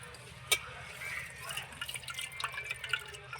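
Soaked seeraga samba rice tips into biryani masala for a Vellore-style chicken dum biryani, a sharp splash followed by wet trickling and shifting grains at close range.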